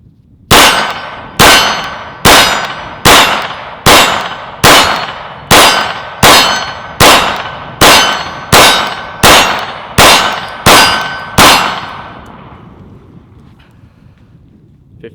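Fifteen evenly paced shots from a Sig P229 pistol ring out loud and close, each crack trailing into a short ringing decay, then the range falls quiet.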